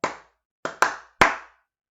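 Hands clap out a short rhythm during a morning mindfulness session: one sharp clap, a pause, then three quick claps in close succession, crisp and near with clean silence between.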